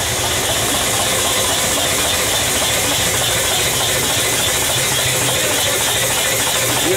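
A twin-cylinder V-type 20 HP steam engine runs loud and close, giving a dense, steady hiss of steam over a continuous low mechanical churn with no pauses.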